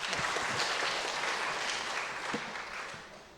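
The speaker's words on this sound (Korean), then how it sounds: "우리 격려의 박수 오늘 하도록 하겠습니다" Church congregation applauding to welcome a new family member at a Korean welcome service, dense sustained clapping from a full room lasting the whole stretch.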